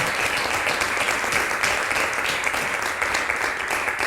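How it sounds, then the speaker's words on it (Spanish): Steady, dense audience applause at a book presentation, many hands clapping together in a continuous, fairly loud wash that holds even for several seconds. "Ahí es un aplauso."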